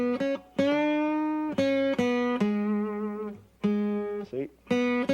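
Electric or acoustic guitar single notes played up close, several sustained tones with a string bend sliding one note up to another, clean and moderately loud with short gaps between phrases.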